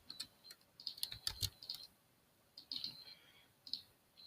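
Keys clatter on a computer keyboard in quick bursts of clicks with short pauses between them, close and fairly quiet over a near-silent background.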